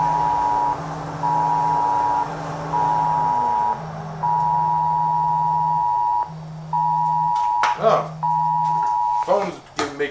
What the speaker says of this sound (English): Phone's making noises.